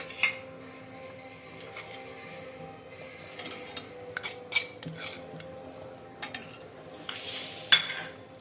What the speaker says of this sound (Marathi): आता मी 2 चमचे मीठ टाकून घेते